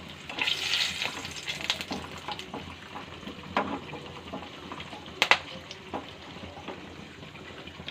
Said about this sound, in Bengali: কড়াতে তেল দিয়ে কড়ার মধ্যে গরম মশলা, গোটা গরম মশলা, এলাচ, দারচিনি, লবঙ্গ আর তেজপাতা ফোড়ন দিয়ে দিলাম